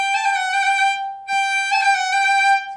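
A high G roll ornament on a bowed fiddle, played twice as a sustained bright tone with quick fingered cuts and taps in the middle, separated by a short gap, clear and close with no talking.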